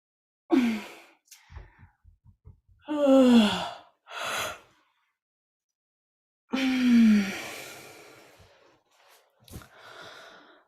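A person stretching and yawning, with long drawn-out vocal yawns and sighing exhales separated by brief pauses and small breathy sounds, close and fairly loud, with no speech.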